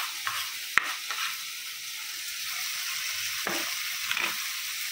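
Chopped tomato and onion sizzle steadily in a hot pan for paneer bhurji, with stirring scrapes and a sharp utensil knock early on, continuous moderate frying without talk.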